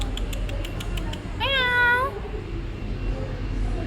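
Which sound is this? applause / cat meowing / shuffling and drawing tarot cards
cat meowing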